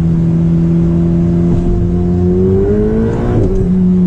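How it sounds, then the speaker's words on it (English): A nimble sports car engine climbs and drops through its gears, loud and close, with steady harmonic drone rising in pitch then dipping at each shift before settling again; no talking. "Just going up and down through the gears."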